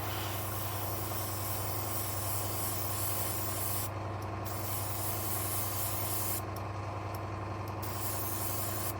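An airbrush from Deco sprays AK Super Chrome paint in a steady, continuous hiss that runs without a break, with a faint low hum from a compressor underneath.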